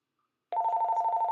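An incoming call on a live call-in show rings through a phone system. After half a second of silence, a steady electronic warbling ring begins and continues clearly, with no talk over it.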